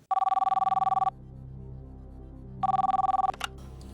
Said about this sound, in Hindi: नई दिल्ली में फोन लगाया जाए इनका।